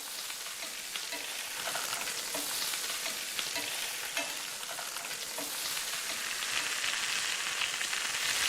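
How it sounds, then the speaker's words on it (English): Steady, dense sizzling of pork chops browning in a hot pan, a continuous crackling hiss with small pops, close and fairly loud, no voices. "that sizzling sound tells me that that pan is filling up with flavor"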